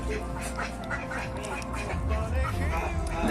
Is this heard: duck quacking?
yes